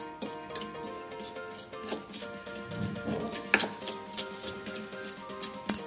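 Dry semolina, gram flour and salt being mixed in a bowl for a fish fry coating, with soft scraping and stirring rustles and light ticks of utensil against the bowl, a steady close-up rhythm of small handling sounds.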